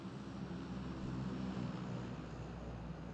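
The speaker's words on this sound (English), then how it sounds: "Just can't hear because of the plane." A propeller airplane drones steadily overhead in PUBG: Battlegrounds, a loud, continuous low engine hum with a thick broadband roar that holds at the same level for the whole stretch, with no voices.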